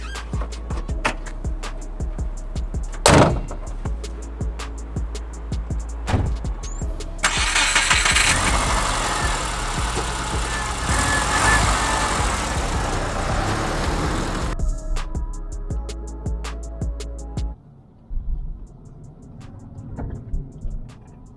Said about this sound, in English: now it's time for the test drive